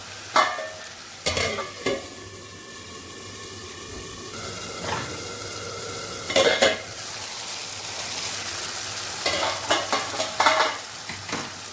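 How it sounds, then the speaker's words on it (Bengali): Spice masala for Bengali crab curry fries and sizzles in a pan, with a steady hiss broken by several bursts of spoon scraping and stirring against the metal, close and fairly loud with no talking. "এবার এই মশলাটা একটু ভালো করে কষানো হবে।"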